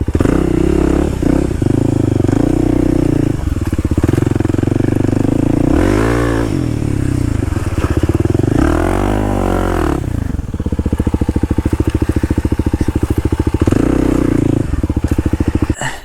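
A dual sport motorcycle is ridden off-road, its engine droning loud and steady at close range with several rising and falling revs, plus rattles and crunches from the rough ground and no talking.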